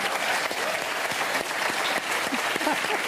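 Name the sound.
audience applause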